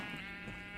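Sheep bleating in the Minecraft video game, a single short, faint bleat with no talking.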